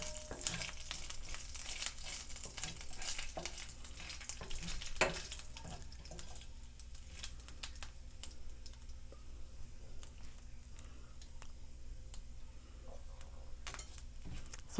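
Bay leaf, fennel seeds and cinnamon crackling in hot oil, a faint, steady sizzle scattered with small pops and ticks, heard at a distance with no talking.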